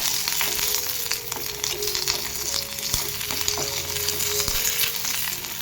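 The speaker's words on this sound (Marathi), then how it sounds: "याच्यात आपण हिरवी मिरची टाकून घेऊया." Six or seven green chillies roasting with browned coconut in a pan, a steady close crackling sizzle with occasional light spatula taps and clinks, no voices.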